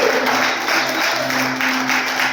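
A church congregation applauds loudly and steadily, a dense wash of clapping from many hands filling the whole stretch without a break.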